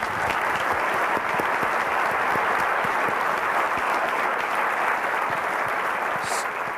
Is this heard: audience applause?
yes